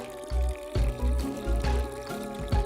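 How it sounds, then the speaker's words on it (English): Water gushing out through two tubes fastened into holes in a hand-held bucket, a close splashing pour in several surging bursts rather than a steady trickle. "The water pours out and the bucket starts spinning."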